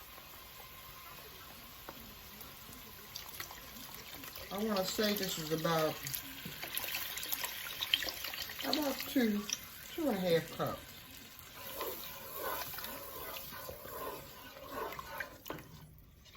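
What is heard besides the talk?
pouring chicken broth into pot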